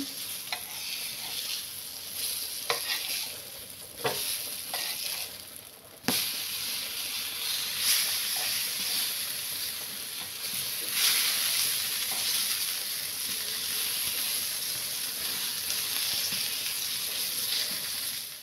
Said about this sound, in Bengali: সুন্দর করে আমি বেগুনগুলো ভেজে নিচ্ছি